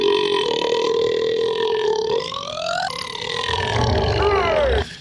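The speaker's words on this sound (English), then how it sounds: "Longest burp." A long, loud, drawn-out burp from a movie, rough and pitched, with its tone sliding and wobbling over about five seconds before cutting off.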